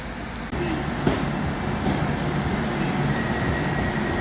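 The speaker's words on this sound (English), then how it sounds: "I am going to get this train, the 1141," A Greater Anglia train waits at a station platform before the 11:41 service to Sheringham, giving a loud steady rumble with a sudden step up in engine noise and faint squeals and clanks, with no talk.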